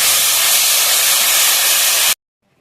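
Rui fish kalia sizzles in oil while being fried down, a loud steady hiss that cuts off abruptly into near silence.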